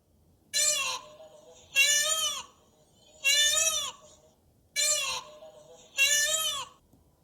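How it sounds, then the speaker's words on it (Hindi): Five loud, wailing peacock calls with a rising and falling pitch, separated by pauses of about a second, heard close and alone with no talking. "फिर शिखी, मोर की साउंड।"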